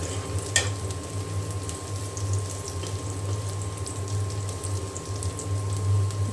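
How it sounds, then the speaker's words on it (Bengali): Chopped garlic and onion frying in oil for a dal tempering, a steady low sizzle and bubbling that runs throughout, with a few faint clinks and scrapes of stirring and a constant mild background hum. "আমি এখানে তেল দিয়ে দিয়েছি, আর তেলে রসুন কুচি আর পেঁয়াজ কুচি দিয়ে দিয়েছি"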